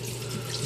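Tap water runs steadily into a bathroom sink as it fills for a shave, a continuous close rushing splash with no voices.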